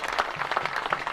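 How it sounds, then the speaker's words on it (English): Crowd of fans from two high school football teams clapping in appreciation for a game official, a steady dense patter of applause at a stadium. "Good appreciative applause by both schools and their fans"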